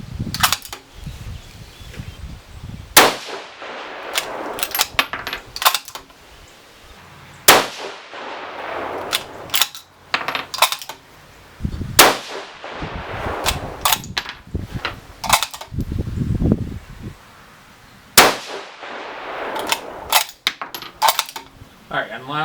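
A 6mm GT rifle firing brand-new brass cases lets off a series of sharp, loud, ringing shots spaced several seconds apart, with mechanical clicks and handling noises between them.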